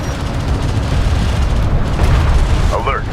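Light attack vehicle blowing up in Homeworld: Deserts of Kharak, a loud rumbling blast that rolls on for a few seconds amid battle noise. A voice is heard near the end.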